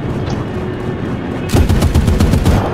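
Video game gunfire, a loud rapid burst of automatic shots starting abruptly after a quieter stretch and continuing in quick repeated cracks to the end.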